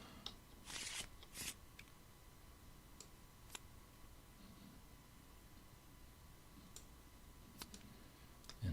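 Board game cards shuffled during setup, two quick riffling bursts near the start followed by a few faint clicks and taps in a quiet room.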